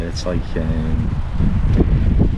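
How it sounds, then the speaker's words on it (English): Strong wind at a fishing lake roars and buffets the microphone in a steady low rumble, while someone speaks briefly close by. "I don't know whether you can appreciate how windy it is here."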